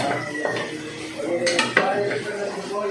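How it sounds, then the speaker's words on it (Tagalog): Ingredients being sautéed in a pan for ginataang gabi, with clattering utensil scrapes and knocks against the pan and a faint sizzle underneath, close and busy. "Gigisa muna natin yung ating mga sahog para mas tumalab yung lasa."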